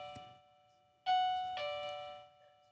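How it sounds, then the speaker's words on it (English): A two-tone electronic doorbell chime rings clearly indoors, a bright ding followed by a sustained dong that slowly decays in an otherwise quiet room. "Never have I ever heard a doorbell in here."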